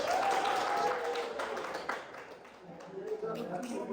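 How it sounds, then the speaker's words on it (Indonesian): Applause from a class audience during a teaching practice session, a sustained dense patter of clapping lasting the full stretch at moderate loudness, with a voice speaking over it. "Satu buat Mbak Nisa, tepuk tangan dulu dong"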